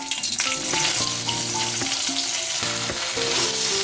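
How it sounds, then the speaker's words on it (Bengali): Okra, halved lengthwise, hits hot oil left over from frying potatoes and sizzles loudly and continuously, with stirring clatter and metallic scraping mixed into the dense crackle. "আলু ভেজে তুলে রেখে ওই তেলের মধ্যেই ভেন্ডিগুলো দিয়ে দিচ্ছি।"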